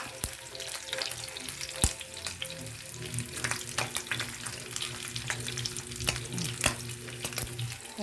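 Hot oil splatters and sizzles steadily around saba bananas frying in a pan, crackling with sharp pops close up, along with a faint watery hiss and an occasional clink.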